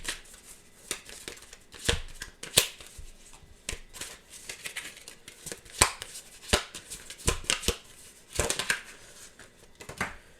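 Tarot cards being shuffled and drawn during a card reading, a run of crisp riffling snaps and papery slaps in irregular bursts, close and fairly loud, with no talking.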